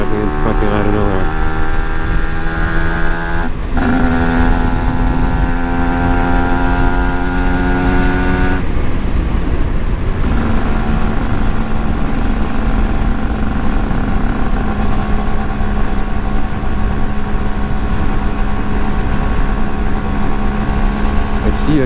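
A Cagiva Mito 125 motorcycle on a test ride roars loud and close, its engine note holding steady, then dropping and climbing again through gear changes.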